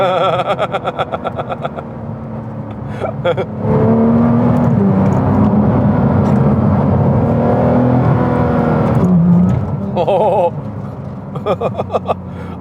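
A Porsche 911 GT3 Touring with a PDK gearbox drives along slowly, its engine droning loud and close with rising and falling revs and a brief gear-change whir. Someone talks over it in places.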